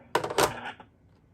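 A Panasonic KX-TCM422 cordless phone's plastic handset clatters onto its base, a quick cluster of clicks and knocks followed by a brief rattle, then quiet.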